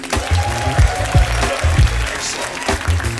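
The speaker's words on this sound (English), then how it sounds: "by applause, how many people have never been to Alaska before?" Cruise ship audience applauding aboard the Celebrity Eclipse on an Alaska voyage, a dense steady clapping from a sizable crowd with a few louder bursts, close and continuous throughout.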